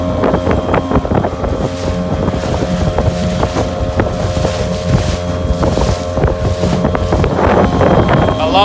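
Mariner 3.3hp two-stroke outboard motor running on a small boat on a windy, rough day, a steady loud buzzing drone mixed with gusting wind noise on the microphone, no talk.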